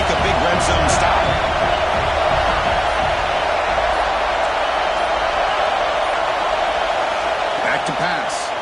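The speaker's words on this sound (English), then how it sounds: "This crowd is trying to inspire this defense to make a big red zone stop." Roaring crowd noise at an Alabama football stadium as the home defense tries for a red zone stop, a dense, steady wall of cheering throughout, heard with a commentator talking over it.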